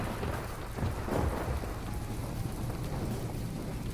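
A night thunderstorm in the naval combat game From the Depths: steady heavy rain hissing throughout, with low rolling thunder rumbles swelling beneath it and no speech.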